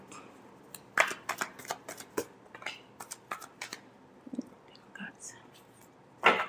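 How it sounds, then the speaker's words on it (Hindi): A deck of tarot cards is shuffled by hand in quick bursts of crisp riffles and snaps, close and fairly quiet, ending with a louder final flurry, while a low whispery voice speaks in between. "Last shuffle."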